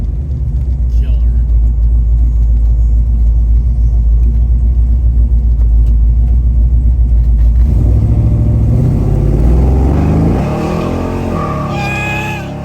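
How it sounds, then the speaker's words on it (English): A 1970 Chevrolet Chevelle with a big block engine roars loudly from inside the car, a deep steady rumble that climbs in pitch as it accelerates through gears, with people talking over it. "Big block Chevelle."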